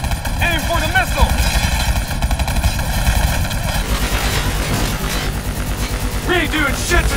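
Sustained gunfire at a VTOL aircraft in Call of Duty Black Ops 3, a dense continuous battle roar with engine and rotor drone, loud and close, with voices shouting over it throughout.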